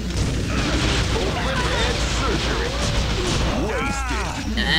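Grenade blasts and chaotic combat effects in the shooter TimeSplitters Future Perfect, a dense run of booms, crashes and whooshing noises, loud and busy throughout.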